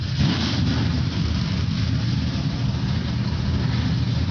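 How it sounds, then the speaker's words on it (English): Some 33 NASCAR Craftsman Truck Series trucks fire up together, forming a dense, steady rumble of many engines at idle with no pauses. "Some 33 NASCAR Craftsman Truck Series machines come to life as the command is given"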